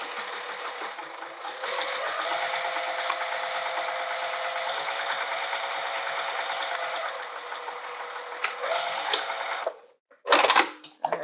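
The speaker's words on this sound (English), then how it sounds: "We're just going to sew right across here." A sewing machine stitches straight across a small fabric wallet, a steady fast rattling hum lasting about nine seconds before stopping, followed by a few brief clicks and handling noises.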